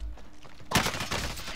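Gunfire in Call of Duty: Modern Warfare Warzone, a sudden loud burst of rapid shots after a quieter lead-in, continuing in dense repeated cracks.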